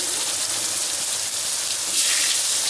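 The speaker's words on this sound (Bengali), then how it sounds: "আলু আর কচু একসঙ্গে আমি সুন্দর করে ভেজে নেব।" Taro and potato pieces frying in hot oil for a rohu fish curry make a dense, even hiss and crackle that holds close and steady throughout.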